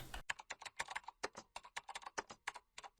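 Computer keyboard keys are tapped in a quick, irregular run while an ID number is entered, with a steady patter of close, crisp clicks and no talking.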